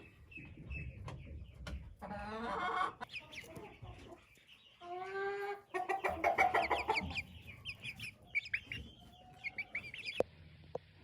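Chicks cluck, chirp and peep while being fed, nearby and fairly loud, in clustered bursts with brief quiet gaps and occasional handling noise.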